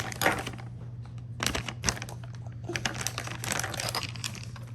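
Crinkly plastic card packaging being torn open by hand, with bursts of crackling and tearing over a steady low hum, fairly close and alone without talk.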